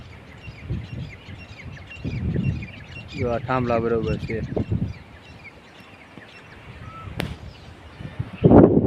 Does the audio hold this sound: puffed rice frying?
no